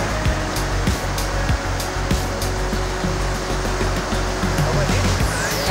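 Waves wash steadily onto a beach in Huelva, a constant loud roar of surf heavily mixed with wind noise on the microphone.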